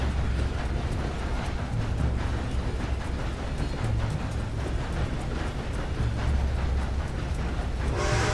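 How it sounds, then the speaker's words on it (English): A steam train in Red Dead Redemption 2 rumbles past at close range, a loud continuous roar with rhythmic chugging and clattering that never lets up, with no talking. "Watch out, guy! You were just about to get run over by a train."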